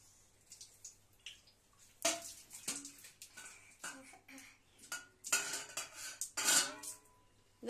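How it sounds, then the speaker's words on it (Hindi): Utensils and pots being washed by hand, with irregular clinks, clatters and scrapes of metal dishes coming in close bursts alongside faint water sounds. "कैसे बर्तन धो रही है रे?"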